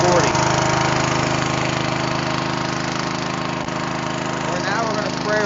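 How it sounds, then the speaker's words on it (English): Engine of a 535 or 1035 gallon deicing sprayer running at a set speed, a steady loud droning hum with constant mechanical tone, close by and unbroken throughout. "we set the engine speed to get us to 40"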